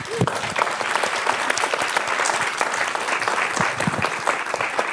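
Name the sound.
audience applause for a panel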